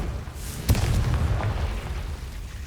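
A Confringo blasting spell bursts in Hogwarts Legacy with a sharp crack, followed by a deep rumbling boom that rolls on under sustained low game noise, loud and close.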